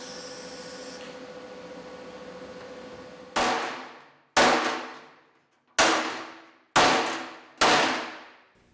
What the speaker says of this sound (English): I spent a little time with a hammer and dolly trying to get the bends to better match the curve